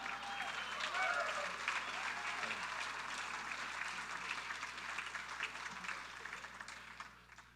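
Applause at a 25th anniversary celebration: a steady wash of many hands clapping, moderately loud and slowly fading over several seconds, with some voices mixed in.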